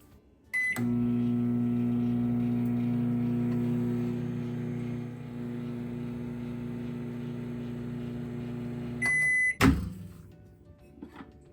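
A microwave oven heating ghee and spices for about twenty seconds: a beep, then a steady motor hum, another beep series, and a door clunk as it stops, with no talk.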